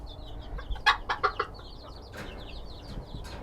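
A buff-colored bantam hen clucks in a short run of sharp, close calls while small birds chirp continuously in the background.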